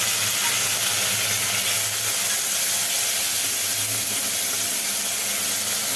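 Cumin paste and green chili sizzling in hot oil, a steady, dense hiss that stays close and even for six seconds with no voices.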